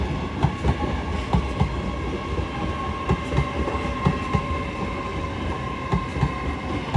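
A Class 801 LNER Azuma train running through Doncaster station on a London King's Cross to Edinburgh Waverley service makes a loud, close rumble with rhythmic clickety-clack wheel beats over the rail joints.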